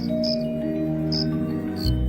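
Crickets on a quiet summer evening, calling in short, bright chirps that recur in bursts against a steady, droning insect chorus, close and clear with no talk.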